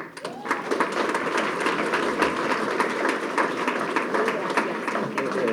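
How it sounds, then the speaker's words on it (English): Audience applause at a bilingual financial literacy symposium held by the City of Hartford Treasurer's Office: steady clapping from a moderate-sized crowd, sustained throughout at an even, moderately distant level. "Let's give another round of applause to Dr. Leslie Torres."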